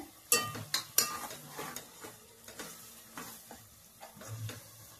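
Snail curry cooks in a pot with soft bubbling and sizzling, broken by sharp clinks and scrapes of a utensil against the metal. The sounds are close and fairly quiet, with no speech.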